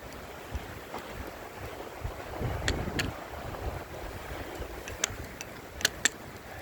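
Steady wind rushing and buffeting across the microphone outdoors in -12°C winter weather, with a few faint high clicks and water-like noise in the background.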